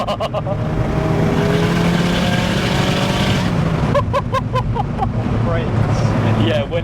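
A big-turbo Vauxhall Corsa of 300+ bhp accelerates hard at full throttle, its engine a loud, steady drone close by that holds throughout, with brief chirping noises near the end and occasional voices over it.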